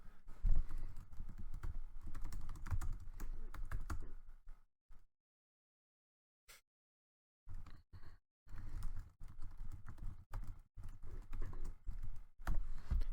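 Someone types a message on a computer keyboard, a steady patter of key clicks that pauses for a few seconds of silence midway before resuming with a few louder taps.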